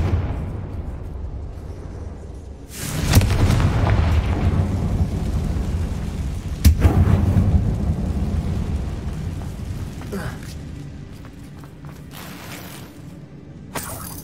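A Confringo blasting spell in Hogwarts Legacy erupts with a loud broadband burst that rolls on for several seconds, followed by a second sharp crack midway and a fading rumble with scattered debris pops toward the end.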